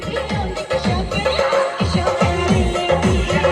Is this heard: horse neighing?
yes